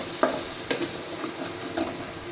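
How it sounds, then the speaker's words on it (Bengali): Whole spices, a cinnamon stick and two cardamom pods, frying in oil in a pan, with a steady soft sizzle and a few light scrapes of stirring, close and alone without talk. "1 টুকরা দারচিনি দিয়ে মশলাটা আমি সুন্দর করে ভাজি ভাজি করে নেব।"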